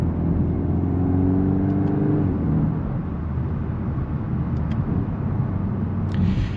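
A 2025 Volkswagen Golf R accelerating on the road in race mode: a steady, loud engine rumble with rising harmonic tones early on, heard from inside the car with continuous road and wind noise.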